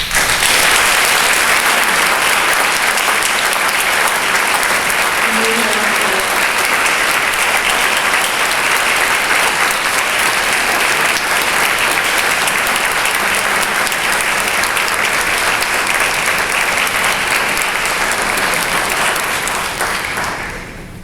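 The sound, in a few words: audience applause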